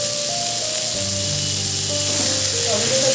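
Chopped tomato frying with potato and pointed gourd in a pan for a Bengali vegetable curry, giving a steady sizzle with a few faint scrapes and a voice talking softly underneath.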